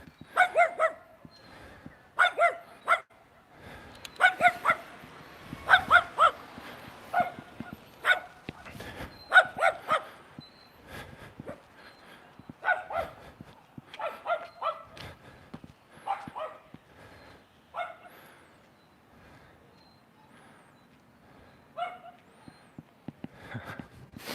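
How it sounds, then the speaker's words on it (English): Many dogs bark loudly and repeatedly, overlapping in bursts throughout, with occasional yips. "there are all these dogs just barking really loud"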